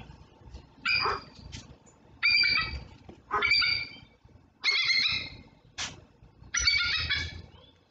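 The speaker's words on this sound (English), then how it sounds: "I'm going to play you the bald eagle call" A recorded bald eagle call plays as five bursts of high, chattering, squealing notes spaced about a second and a half apart over low background noise.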